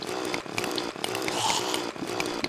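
A mining drill running steadily in Terraria, a continuous buzzing, grinding whir close and loud, with brief dips in intensity as it chews through blocks.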